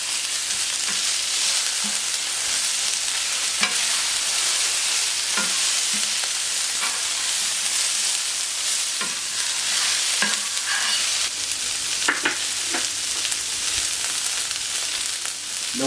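Grilled Catalan-style vegetables, escalivade-style with courgettes, sizzle loudly in a pan. Repeated scraping and clinking stir strokes sound close over a continuous frying hiss, with no talking.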